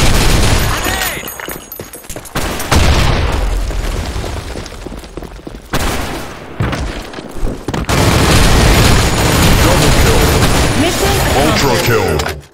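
A thrown grenade bursts in the Sand Storm II video game, a loud booming explosion amid rapid gunfire and dense battle noise, with several heavy blasts and shouted voices over the chaotic mix.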